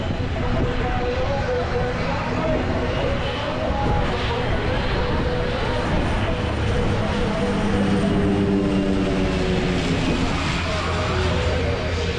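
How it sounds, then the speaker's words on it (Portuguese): An airplane taking off near a beachside bar and restaurant gives a broad, continuous engine roar that swells slowly, heard at a distance, with people talking faintly underneath. "Vamos ver os aviões decolando."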